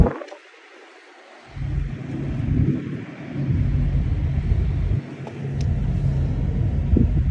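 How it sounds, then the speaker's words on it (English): A 1990 Porsche 964 Carrera 2 Cabriolet engine catches after a moment of silence and settles into a steady, close, deep idling rumble with no talking. "we are going to fire it up and then drive it"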